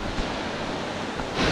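Rushing water close beside a waterfall on a Tennessee fishing spot, a steady loud broadband roar that swells slightly near the end, with no voices.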